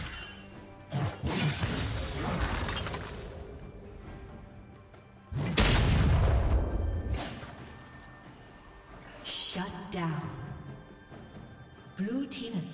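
A turret crumbling and being destroyed in the League of Legends video game, with heavy crashing impacts and whooshing effects in two big bursts among other battle sounds, while a voice speaks over the action.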